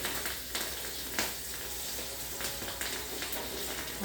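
Green chillies fry in hot oil in a home kitchen, giving a soft, steady sizzle with faint crackles and pops throughout, quiet and alone without voices.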